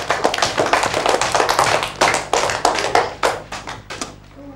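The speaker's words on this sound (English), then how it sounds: "Give them also a big clap." A Year 1 primary maths class claps for a group of classmates: a fast, close flurry of many hands that ends abruptly, with no talking.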